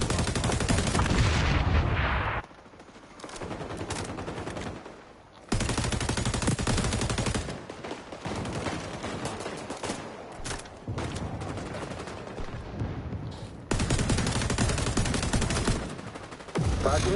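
Bursts of rapid automatic gunfire in the XDefiant shooter game, loud and dense, coming in several sustained volleys separated by brief quieter gaps, with no talking.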